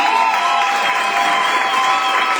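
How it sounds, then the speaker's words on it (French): Wedding guests applauding and cheering the couple together, a steady, loud wash of crowd noise with clapping and raised voices that holds for the whole stretch. "On applaudit."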